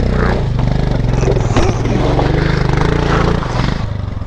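A motorcycle is muscled across a stream on a monsoon ride through Malshej Ghat, its engine droning steadily and close while scrapes and clatters of the bike being shoved break through.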